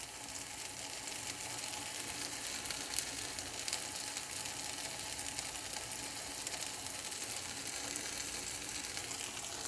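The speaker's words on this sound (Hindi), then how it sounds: "और पोटैटोस को 3 मिनट्स के लिए फ्राई करूँगी मैं।" Okra and potatoes fry on a tawa in a Canadian home kitchen, giving a steady, even oil sizzle with fine crackling throughout, close and moderately loud, with one brief sharp tick near the middle and no voices.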